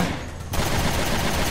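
Gunfire in the Resident Evil 2 video game, a dense rapid burst of shots that fills the clip, loud and close, with no voices.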